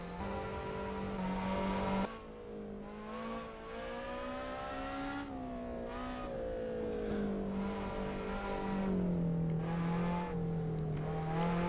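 A race car in the video game Assetto Corsa drives a fast lap, its engine note climbing and dropping through gear changes in a continuous smooth whine, with no talk.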